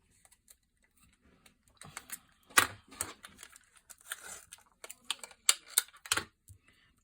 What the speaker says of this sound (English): I'm going to put some double-sided tape on it